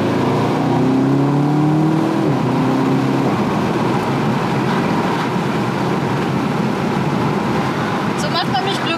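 A fast new car's engine revs up through several rising pitch sweeps as it shifts gears, loud and close, with a steady roar and road noise continuing afterward.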